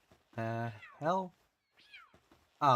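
A human voice imitates a cat's meow several times while playing the video game Palworld, with short drawn-out mewing calls separated by brief pauses.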